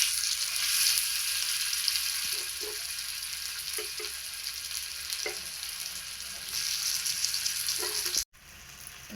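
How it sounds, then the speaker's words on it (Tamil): Masala-coated fish frying in a little oil on a tawa, a continuous close sizzle and hiss with faint scraping touches, steady throughout before a brief cut near the end. "இப்போ தவா வச்சு கொஞ்சமாக ஆயில் ஊற்றிருக்கேன்"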